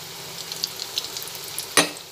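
Chicken crispy snacks fry in a pan over a medium gas flame, a close, crackling sizzle with small spits, then one sharp utensil knock near the end.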